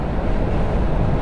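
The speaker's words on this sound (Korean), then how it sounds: "느껴지시나요? 이 바람 소리?" Steady, rushing wind roars with a low rumble, loud and continuous, as air buffets in through an open window of a moving Scania G410 truck.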